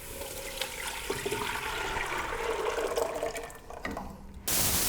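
Blended rice and milk mixture for gur kheer being poured into a pot on a lit stove, a steady liquid splashing pour that runs continuously before a sharper burst at the end.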